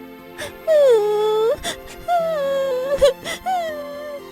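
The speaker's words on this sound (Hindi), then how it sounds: "तभी उसे रोने की आवाज आती है।" A wailing, sobbing cry used as a sound effect in a Hindi cartoon story, several drawn-out whimpering moans with short sniffles and breaths between them, loud and close, with no speech over it.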